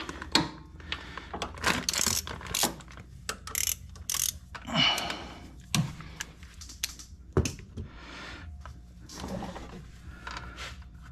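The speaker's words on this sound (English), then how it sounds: "I'll just use the socket and spin the bolts out here." A ratchet and socket spin out the oil drain bolts on a 2023 Honda Talon 1000R, making close, quick bursts of light clicking and ratcheting with brief gaps between them.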